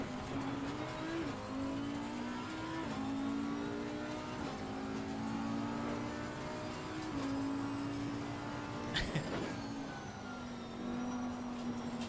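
Race car engine in Assetto Corsa Competizione on a big grid, droning steadily throughout with pitch rising and falling through gear changes, and a sharp crack near the end.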